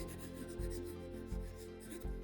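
A pencil sketches loosely across paper, making a soft, continuous scratchy rubbing close by, with a steady low hum underneath.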